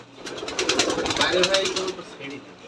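Rajshahi Giribaz pigeons coo nearby in a soft, rolling murmur, with a voice speaking over the birds.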